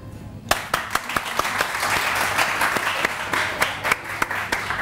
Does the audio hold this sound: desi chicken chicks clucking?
no